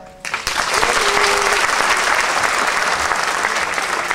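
An audience bursts into loud, sustained applause for a visual comedian on stage, dense clapping that rises quickly and holds steady throughout.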